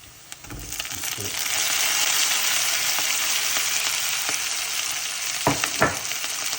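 Masala frying and being stirred in a pan for crab gravy: a loud, continuous close-up sizzle that swells and holds, with a few sharp clinks of the spoon against the pan near the end.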